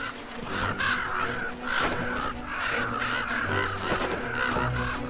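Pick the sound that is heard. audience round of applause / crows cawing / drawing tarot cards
crows cawing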